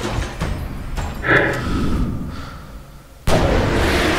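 Gunfire in the action video game Stranglehold, a few sharp booming shots with a heavy report near the start and a loud sudden blast near the end over a dense game soundscape.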